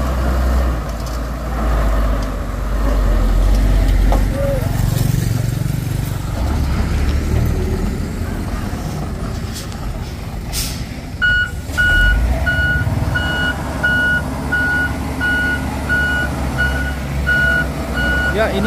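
An excavator arrives on site to recover a Hino tronton heavy truck, with a steady low diesel rumble throughout and a repeating reversing alarm beeping in the second half, loud and close.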